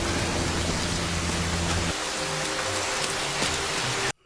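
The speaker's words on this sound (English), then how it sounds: "Is all that rain gonna flood the cellar or the basement or wherever?" Heavy rain pours steadily in the film Parasite, a loud dense hiss that fills the scene throughout, with a low rumble dropping out midway and an abrupt cut at the end.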